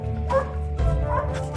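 A dog barks in two quick, close yips with whimpering overtones, loud against a low rumbling background.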